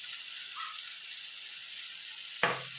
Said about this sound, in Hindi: इसको भूनना है, दाल को पकाना है पहले